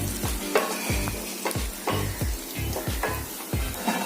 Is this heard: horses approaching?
no